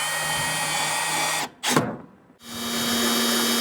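A power drill drives screws into an RV step threshold cover plate, a steady whirring run that cuts out, a short burst, then a pause before the motor spins up again, close and alone.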